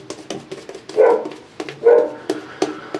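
A dog gives two short barking bursts about a second apart, fairly close and moderately loud, with small yips and whimpering noises scattered between them indoors.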